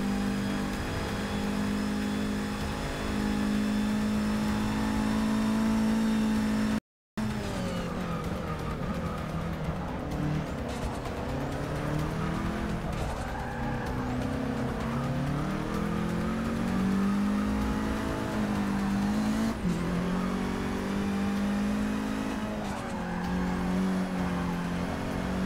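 Racing car engine in a video game race, held at a high whine that rises and falls with gear changes and revving, loud and continuous apart from a brief cut, with no talking.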